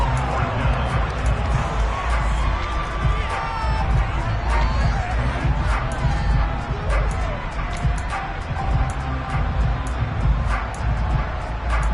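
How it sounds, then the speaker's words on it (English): Stadium crowd noise from the Madden 23 American football video game, a dense, steady roar of cheering and applause that fills the clip at constant loudness, with scattered sharper shouts rising above it. "How about some applause for the defense there?"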